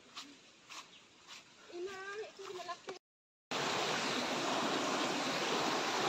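A river in a hilly forest area rushes with a steady, loud broadband wash that starts after someone talks over quieter background and a short silence.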